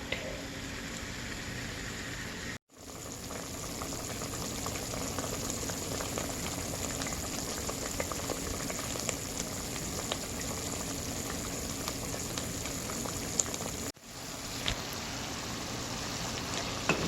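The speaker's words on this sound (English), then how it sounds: "just turn the heat up so that boils out" A homemade sauce boils hard in a pan on high heat, a dense, steady bubbling and hissing that runs on alone with only brief breaks.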